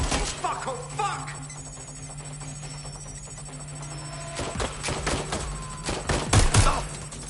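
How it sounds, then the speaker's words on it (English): Gunfire in the video game Watch Dogs Legion: a few sharp shots and a short burst toward the end, following a quieter, tense stretch of background ambience. "Shots fired! Shots fired! Covering fire!"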